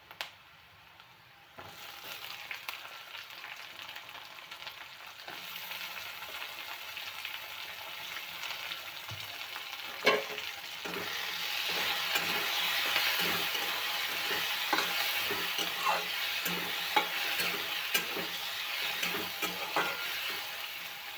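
Tomatoes frying and being stirred in a pan for a matki dal onion dish: a sizzle builds after a quiet start and settles into a continuous close hiss, with scattered scraping clicks of the spoon moving the tomatoes.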